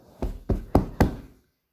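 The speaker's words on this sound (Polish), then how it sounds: "Jak, jak on tak puka, to mi się wydaje, że on puka tak." Four firm knocks in an even, quick rhythm, close and distinct, followed by silence.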